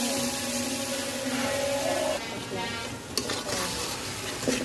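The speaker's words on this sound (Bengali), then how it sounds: "আমি একটু জল দিয়ে দিলাম যাতে মশলাটা ভালো কষানো যায়।" Blended spice paste cooking in a pan with a splash of water added, stirred over the heat: a dense sizzle with a brief sharp clatter midway, fairly loud and without talk.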